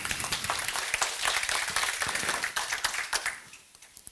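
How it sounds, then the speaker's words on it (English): A conference audience applauds a Telenor sales manager welcomed on stage, a loud burst of many hands clapping that stays dense and lively, then tapers away over the last second. "Give them a big applause."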